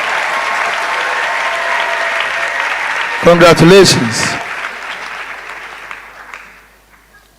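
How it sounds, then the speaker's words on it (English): A crowd at an induction ceremony for newly qualified medical and dental practitioners claps in a thin, steady wash. A single spoken word cuts through midway, and the clapping then fades gradually to near silence. "Can we give them a big round of applause and say to them, congratulations?"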